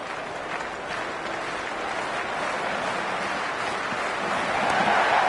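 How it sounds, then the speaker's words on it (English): A dense, steady roar of a cheering stadium crowd at a cricket match in the Cricket 26 video game, swelling slightly toward the end with no distinct voices standing out. "There's an almost tangible fervour throughout the crowd at the moment."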